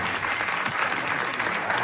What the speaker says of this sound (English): Give Chloe a big round of applause.